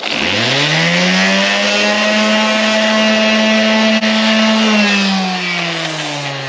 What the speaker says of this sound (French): On va pouvoir les rattraper facilement à la ponceuse.